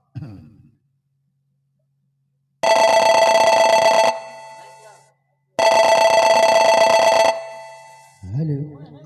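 A telephone rings after a number is dialed: two long, loud electronic rings, each lasting about one and a half seconds, separated by a short pause, with brief voice sounds just before and after.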